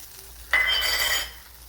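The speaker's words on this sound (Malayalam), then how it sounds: "ഇവിടെ ബട്ടർ അങ്ങനെ ശരിയായിക്കൊണ്ടിരിക്കുന്നു." A piece of butter sizzles in a pan while cooking pumpkin butter garlic, a sudden hiss rising after a quiet start, then holding steady for under a second before easing back down.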